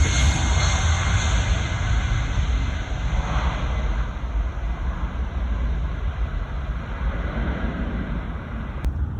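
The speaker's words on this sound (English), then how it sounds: "The beautiful CFM engines." EasyJet Airbus A319 with CFM engines at Gatwick Airport, a loud continuous jet roar with a steady high whine, close and sustained without a break, no voices.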